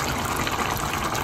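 Meat stock (yakhni) is poured straight into a pot for Afghani beef pulao, making a steady, close liquid gush that lasts about a second.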